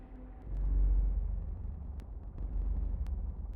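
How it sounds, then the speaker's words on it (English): Thrusters on a sea truck in the underwater game Subnautica: Below Zero rumble deeply as the vehicle turns, swelling in two low surges with faint static-like crackles above. "When it's turning, it's thrusters. Listen to this."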